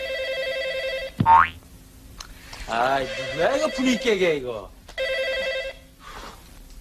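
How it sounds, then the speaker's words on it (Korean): A telephone rings indoors in a Korean comedy film, with bursts of bright, buzzing electronic rings at the start and again near the end, and someone speaking irritably between them. "때마침 이 곤란한 상황을 구원해줄 전화가 울리는데"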